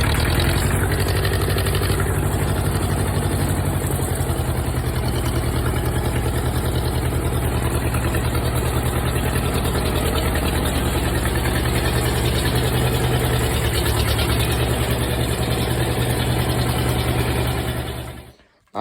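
An International Harvester tractor engine idles loudly and close in an even, unbroken rumble for a long stretch, then cuts off abruptly at the end.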